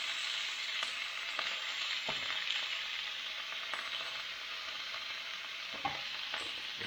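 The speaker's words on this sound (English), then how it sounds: "like a carbon steel pan here. Holds the heat really well, and then we're going to put in our meat." Meat sizzles steadily in a hot carbon steel pan for goulash, with occasional scrapes and clicks of stirring, at moderate volume and with no voices.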